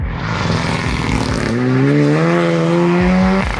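A car pulls away from a standstill without launch control, its engine note climbing steadily as it revs through the acceleration, loud and close with no talking.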